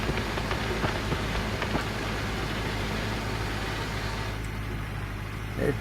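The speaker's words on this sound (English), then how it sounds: "maybe it'll rain for a while today and the river won't dry up" Steady rain falling in the Gold Rush gold mining game, a constant close hiss of drops on surfaces with a low engine hum underneath, heard alone without talking.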